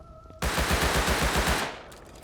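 Sustained burst of SAR rifle fire in a first-person shooter, a rapid run of close, loud shots lasting over a second after a short quiet start, then trailing off.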